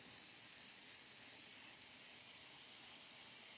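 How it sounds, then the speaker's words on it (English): A continuous airy hiss of compressed air spraying from a can onto a small dent, steady and close, lasting the whole time before cutting off at the end. "There I'm spraying it again"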